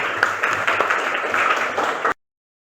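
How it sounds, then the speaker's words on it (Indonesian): A class applauds together, dense clapping that stays at an even level for about two seconds and then cuts off abruptly into silence. "tepuk tangan buat kita semuanya"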